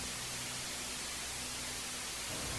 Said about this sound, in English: every morning, to the sound of static.